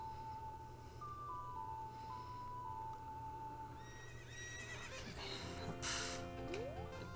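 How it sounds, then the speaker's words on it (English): A horse neighs when called in the Zelda Ocarina of Time video game: a whistled ocarina tune plays over steady background music, then a loud whinny rises with clip-clopping hooves approaching. "Time to call my horse."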